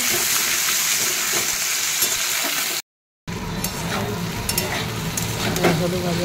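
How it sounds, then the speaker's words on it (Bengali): Okra and potatoes fry in a pan with black mustard seeds, a loud, steady sizzle that cuts out briefly before resuming with some stirring clatter. "ঢেঁড়স আলুটা ভাজি"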